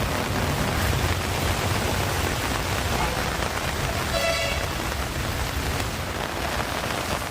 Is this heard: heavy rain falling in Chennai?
yes